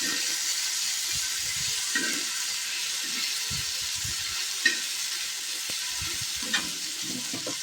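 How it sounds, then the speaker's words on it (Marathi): Mustard seeds, cumin, chili, garlic cloves and tomato frying in hot oil give a steady broadband sizzle throughout, with soft stirring scrapes and a couple of sharp pops or spatters. "इथे टाकत आहे मी मोहरी, जिरं, मिरची, 2-3 कुड्याचा लसूण, त्याच्यामध्ये टोमॅटो"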